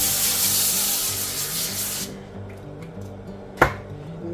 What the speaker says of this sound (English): I am going to spray my aluminum foil with some vegetable oil spray